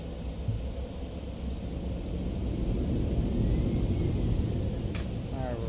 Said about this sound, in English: Let's give a quick reverser check.